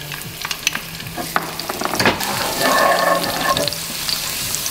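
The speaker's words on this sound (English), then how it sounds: "I'm gonna put about a quarter cup of extra virgin olive oil, the garlic" Garlic sizzles in about a quarter cup of extra virgin olive oil in a pan, a steady close hiss with scattered crackles and stirring scrapes, swelling slightly toward the middle, with no voices.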